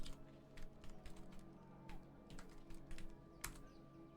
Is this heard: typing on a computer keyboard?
yes